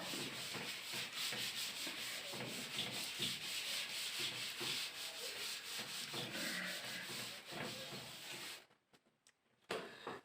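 A duster rubs writing off a classroom board in fast, steady back-and-forth scrubbing strokes, close and fairly loud, then stops abruptly near the end, leaving a few faint taps.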